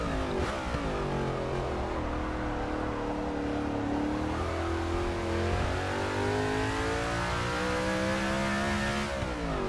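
A NASCAR race car in the Forza Motorsport 6 video game revs and accelerates, its engine pitch climbing in steady harmonic sweeps, loud and close throughout with no talk over it.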